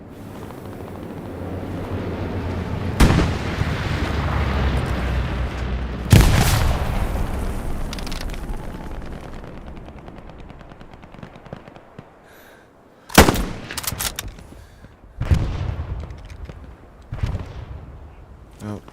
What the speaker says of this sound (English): Taking shots from the west